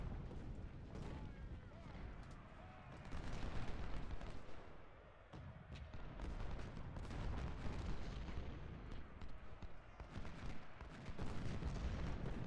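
Artillery fire booms and rumbles almost without a break in Ultimate General: Civil War, a Civil War battle game set at Murfreesboro, as a dense, loud barrage with a voice talking over it.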